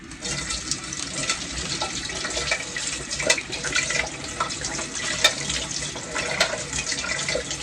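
Cold tap water runs steadily over boiled eggs in a kitchen, a continuous splashing hiss with occasional louder drips and spatters, fairly close and alone.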